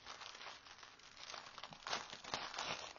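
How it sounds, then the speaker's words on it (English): Crinkly plastic packaging rustles and crackles as happy mail is unwrapped, a close, continuous scrunching with sharper crinkles toward the end, no voices. "Sorry for the rustling."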